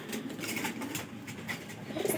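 Pigeons coo softly in a loft, a low, steady murmur of calls with no one talking.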